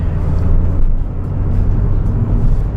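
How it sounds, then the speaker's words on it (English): A 2006 Subaru WRX wagon dropping a gear on a winding road, its engine a steady, loud low rumble heard from inside the cabin as the turbo spools, with no one talking. "feel the turbo spool up, and boost straight away"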